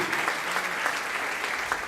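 A church congregation claps steadily through an Easter sermon, a dense, even wash of applause from many hands that holds at the same level from start to finish, with no speech over it.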